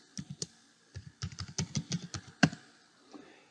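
Fingers typing a username and password on a computer keyboard at a server console, a close run of crisp key clicks in uneven bursts with a louder final keystroke, no talking.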